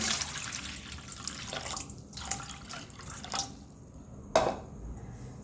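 Water splashes and trickles over lentils in a bowl as they are washed, in short, quiet pours and drips, with no one speaking.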